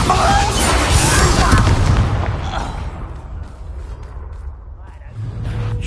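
Bombarda spell blast in Hogwarts Legacy: a loud, rumbling explosion that swells and then fades into a lingering decay, with someone speaking over it.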